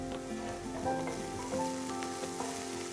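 Chopped onions sauté in a pan with green chilli, garlic and ginger, giving a soft continuous sizzle at low volume with occasional light stirring, no talk over it.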